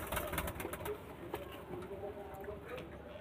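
Domestic pigeons with clipped wings kept in a home loft coo and shuffle softly, with a few faint wing flutters and scratchy movements at a low, close level.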